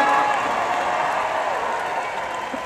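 A rally crowd applauds in a dense, steady roar of clapping that slowly fades over a few seconds, with no voice over it.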